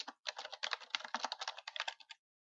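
Rapid, steady typing on a computer keyboard, close and clear, a dense run of key clicks lasting about two seconds before it stops, with no talking.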